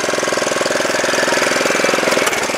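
An MKS1000R ditch-cutting machine's small engine runs at slow throttle, a close, loud, rapid knocking putter with steady rhythm and no speech.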